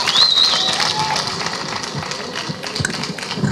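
A live audience at a talent contest in Burundi applauds a contestant. A crowd claps and cheers in a steady wash, with a brief whistle near the start and scattered louder claps toward the end.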